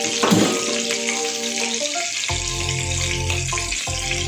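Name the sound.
onions frying in oil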